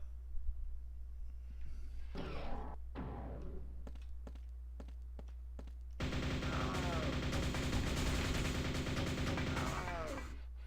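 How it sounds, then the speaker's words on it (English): The flechette launcher in Quake II Mission Pack: Ground Zero, a nail-gun-style weapon, fires sharp repeated shots, first in scattered bursts and then in a loud, continuous rapid stream under game ambience and effects. "this is the flechette launcher"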